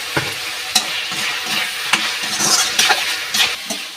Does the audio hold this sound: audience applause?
no